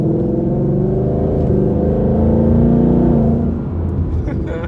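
A 2020 Ford Mustang GT with lowering springs pulls away from a takeoff, a loud, close engine roar that swells steadily and then eases slightly near the end.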